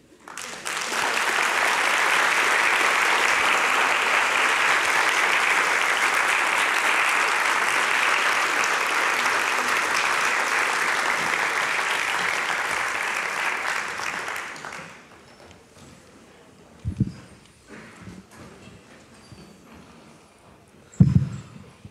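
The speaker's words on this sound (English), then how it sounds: "cheering. Thank you." Sustained audience applause with cheering fills an auditorium after a book talk on crime and punishment, loud and steady for about fifteen seconds before dying away into quiet room noise with a couple of brief thumps.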